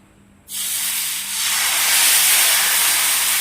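A sudden loud, steady hiss starts as ragi dosa batter meets a hot kadai and keeps sizzling strongly and evenly, close up with no talking.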